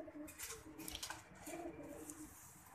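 A pigeon coos softly in short repeated phrases, fairly close, against a faint background with other light bird chirps.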